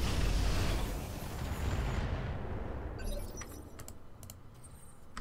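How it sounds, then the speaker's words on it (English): All weapons firing at once in the video game Roguepoint: a dense, loud roar of blasts and rumble that slowly decays, followed by scattered sharp metallic clicks and crackles as it fades. "Firing all weapons."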